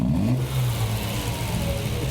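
A Triumph TR6 engine converted from carburetors to fuel injection revs as the throttle is pressed, rising briefly with a slight hesitation before settling into a steady, loud, close mechanical drone.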